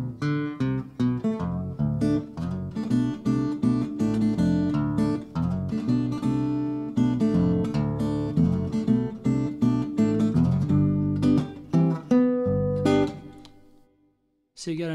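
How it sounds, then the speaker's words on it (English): Acoustic guitar played through an octave pedal, a continuous bluesy lick with a thick added low octave beneath the strummed and picked notes, loud and close, stopping briefly near the end. "So if I want to use an octave pedal, it would sound like this."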